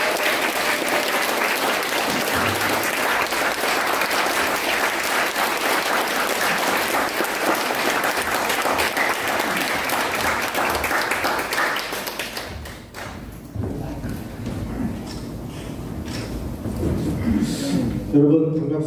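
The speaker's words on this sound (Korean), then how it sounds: "박수 부탁드립니다." A lecture hall audience claps for a journalist speaker at a Seoul bar association event, loud sustained applause for about twelve seconds that then fades into quieter room noise with faint shuffling and a voice starting to speak.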